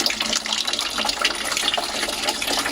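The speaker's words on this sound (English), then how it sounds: "there's still a bunch of water in here that we couldn't get out. You can hear it draining." Leftover water drains from a 300 gallon in-wall tank with a continuous, close gushing and splashing that runs steadily throughout.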